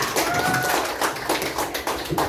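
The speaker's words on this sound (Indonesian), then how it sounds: "Coba beri tepuk tangan untuk Cynthia" Light, sparse clapping from a small group in a classroom-style session, quick patters of hand claps for a participant, fairly soft, with a faint tone and murmur underneath.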